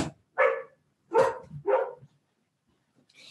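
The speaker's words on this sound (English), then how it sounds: "I have to let him out because he's just going to keep barking" A dog indoors gives three sharp, loud barks spaced about half a second apart, then falls silent before a faint further sound at the end.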